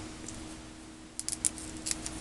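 Scissors snipping through a roll of adhesive dimensionals during cardmaking: a few short, sharp metallic clicks close by, clustered in the second half against a quiet room.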